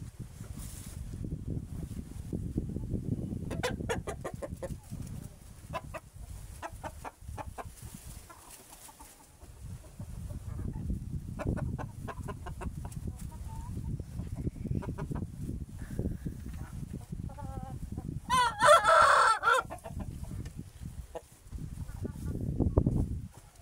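A rooster crows once, a fairly distant call in an outdoor setting, heard among other clucking fowl and background rumble while someone talks at length.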